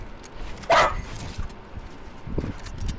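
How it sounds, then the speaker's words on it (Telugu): A dog in a Fortnite Battle Royale match gives a single short, sharp bark, then low game noise and faint movement follow. "ఎవరి కుక్క అది?"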